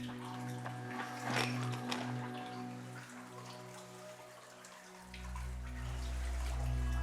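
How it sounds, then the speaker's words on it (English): Murky brown water sloshes and trickles as people wade waist-deep through a partially flooded arched copper mine tunnel cut through red sandstone in Connecticut, quiet and echoing, with a low rumble entering near the end. "It is partially flooded with murky brown water that comes up to our waist."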